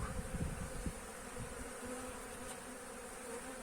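Honeybees, including drones, buzz around an opened hive during the first spring inspection of the year, a faint steady hum with a few louder close passes early on and no talking.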